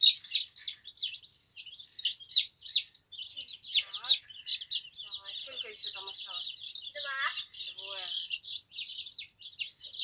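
Many young chicks chirping and peeping in rapid, overlapping high calls from a brood of laying-breed chicks about seven days old, steady throughout, with a few lower bird calls in the middle.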